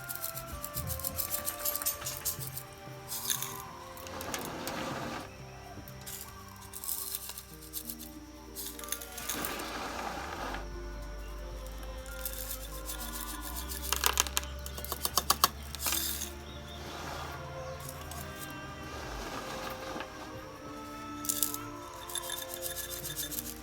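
Small quarter-inch top rock is poured and shifted onto the soil of a pyracantha bonsai pot, giving gritty scraping, rustling and clicking in irregular bursts, close and fairly quiet.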